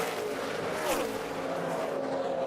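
NASCAR Sprint Cup stock cars race at Atlanta Motor Speedway in 2011. A loud, continuous engine roar dominates, and one car's pitch sweeps downward as it passes close by.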